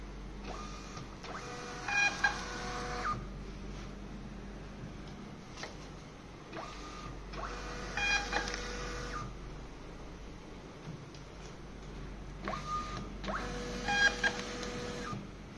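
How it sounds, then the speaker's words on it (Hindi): A TSC TE244 barcode printer prints a test label, with repeated bursts of mechanical whirring and feeding, about three cycles spaced several seconds apart over a steady low hum. "अब मैं आपको दिखाऊंगा कि इसे प्रिंट करते हैं तो वो सही प्रिंट होता है या नहीं।"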